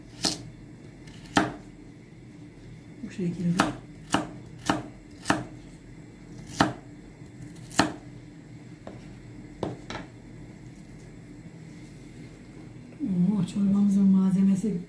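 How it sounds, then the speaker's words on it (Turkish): Knife chopping carrots into cubes on a cutting board, a dozen sharp evenly spaced knocks, close by; a voice speaks briefly near the end. "Şimdi havuçlarımızı da küp küp doğrayacağım dostlar."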